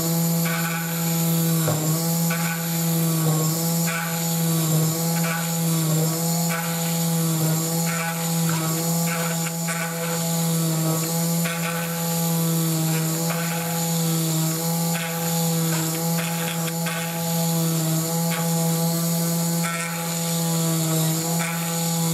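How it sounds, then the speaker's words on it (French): Dremel rotary tool with a small bit drilling holes in the plastic wing of a 1/32 Hasegawa P-40E model kit, a continuous close high-pitched motor whine with steady tone and faint intermittent grinding. "Sur ma Dremel, j'ai mis une petite mèche, hein, toute simple."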